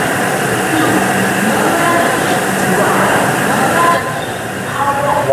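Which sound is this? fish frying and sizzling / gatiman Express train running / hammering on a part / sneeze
gatiman Express train running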